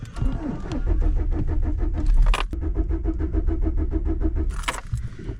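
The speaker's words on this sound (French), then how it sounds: "je vais enclencher une vitesse et je démarre, voir si elle va aller de l'avant" A Dacia's starter motor cranks steadily in gear for several seconds, a rhythmic whirring churn that pauses briefly and resumes, with a short clatter at each break, close and loud.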